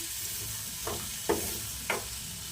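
Okra fry being stirred in a pan, three separate soft scraping strokes over a low, even sizzle, heard up close and fairly quiet.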